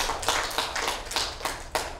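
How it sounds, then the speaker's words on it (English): Applause at a county board of supervisors meeting: a short burst of clapping with quick, uneven claps in a room at middle distance, with no voices over it. "It's difficult for people to hear their name called if there's applause"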